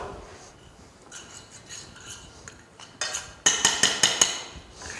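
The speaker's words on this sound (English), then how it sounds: "I'll stir this with a spoon now" A spoon stirs a mixture in a pot. The scraping starts soft, then ends in a few sharp, close metallic knocks and clinks against the pot.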